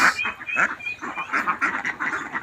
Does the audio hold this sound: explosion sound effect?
no